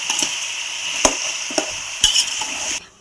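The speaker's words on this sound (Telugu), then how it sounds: "బాగా కలుపుకోవాలండి ముక్కలకి అంతా కలుపుకోవాలి" A spoon stirs turmeric through vegetable pieces in a pan for sambar, giving close scraping strokes over a steady hiss of frying, with a few sharper knocks before the sound cuts off near the end.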